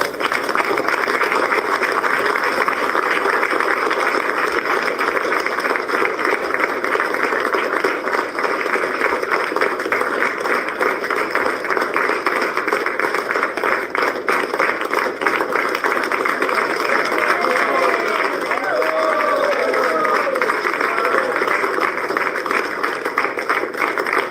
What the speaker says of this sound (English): you can hear Republicans there cheering in the Oval Office